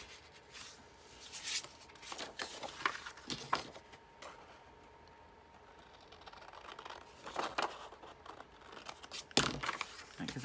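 Scissors cutting a folded paper page, heard as scattered close snips and paper rustles spread across the clip, fairly quiet.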